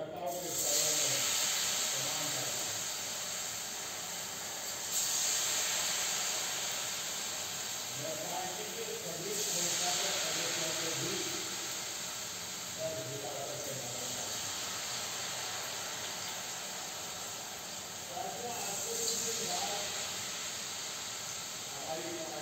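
Sabudana tikki fry in oil on a low gas flame, a continuous soft sizzling hiss with gentle swells, while a voice talks intermittently over it.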